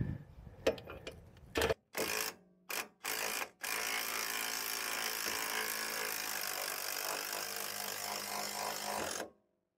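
An impact wrench works on a shock absorber bolt during a truck shock replacement: a few short loud rattling bursts, then one long sustained hammering run of about five seconds before it stops, close up and alone.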